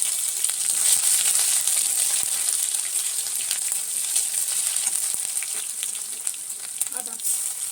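Garlic fries in hot oil with whole garam masala and sugar melted in, making a bright, steady hiss and sizzle with small crackles close up, and no talk.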